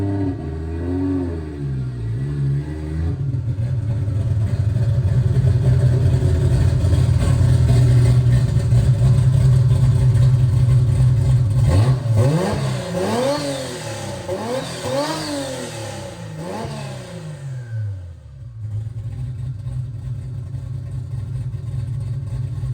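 A Toyota 2JZ engine with an equal-length turbo header revs hard, loud and close: a steady drone rises, then a run of sharp throttle blips swoops up and down before it settles back to a rough idle.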